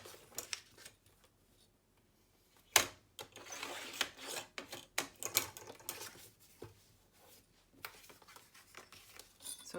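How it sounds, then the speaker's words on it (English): Paper for a Stamperia Spring Botanic craft project being trimmed to size, heard as quiet scraping and rubbing strokes that start after a near-silent opening, with one sharp snap and then a steady run of brief, uneven cuts. "I'm just trimming this down to fit so that I have a nice border around all the edges."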